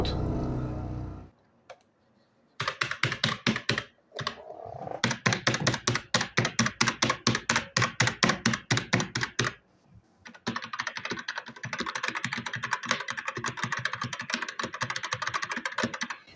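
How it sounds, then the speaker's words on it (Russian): Rapid clicky keystrokes on a mechanical keyboard, close and crisp, typed in quick bursts with brief pauses, then a denser stretch of continuous typing. "звуки типа работы на клавиатуре"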